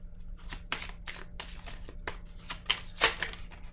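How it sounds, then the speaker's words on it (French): Tarot cards snapped and flicked from a deck, a string of crisp, close papery slaps and riffles in quick irregular bursts over a faint steady hum. "Je vais piger une carte rose."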